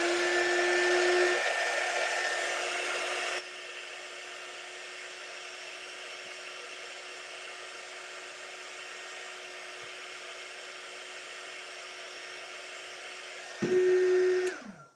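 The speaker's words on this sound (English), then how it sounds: "now I'm going to turn my little heat gun on again" A small heat gun blows with a steady whirring hiss over an edible cake-decorating pinecone, loud at first, then softer and constant, surging again near the end.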